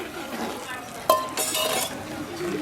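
Vegetable khichdi being stirred in a pot: a spoon scrapes and clinks against the metal a few times amid a faint sizzle, close by, with soft background noise.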